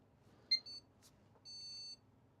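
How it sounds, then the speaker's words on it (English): A PC motherboard's POST beep code sounds from the chassis speaker during a diagnostics session: a sharp, short beep, a brief second tone, then a longer beeping burst, all faint and clean over low hum with no talking. "there was a single beep and then 4 very fast beeps"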